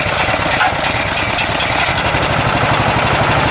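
The small engine of a Graco 833 unit runs steadily at a rough, even idle, loud and close, with a constant low rumble and faint rattling throughout.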